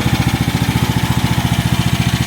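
A Briggs & Stratton 13.5 engine on a 1.5 ton mini excavator runs steadily during break-in, close and loud, with an even, rapid low thumping pulse and no voices.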